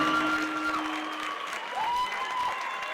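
Steady applause from a high school audience at a Hispanic Heritage assembly, cheering a performance; dense, even clapping fills the whole stretch, with a few faint tonal whistles or voices riding on top.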